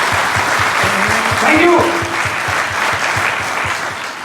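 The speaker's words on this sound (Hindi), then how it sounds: "बहुत जोरदार तालियां" Audience gives a strong, sustained round of applause with some rhythmic clapping in time, while a voice speaks briefly over it.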